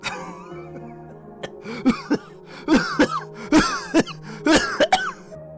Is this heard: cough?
yes